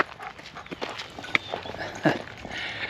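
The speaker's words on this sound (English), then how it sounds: "There's a horse and a couple of dogs running around over here." Dogs and a horse move around on a ranch near the end of a hiking trail, with soft hoof clops, footsteps and a few short barks scattered at moderate distance.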